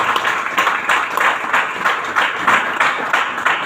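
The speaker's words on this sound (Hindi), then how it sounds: "इम्यूनोडॉग के लिए चाहेंगे जोरदार ताली होनी चाहिए" An audience at a health awareness show claps in a steady rhythmic beat, a brisk, even pattern of group handclaps that stays fairly loud and close throughout.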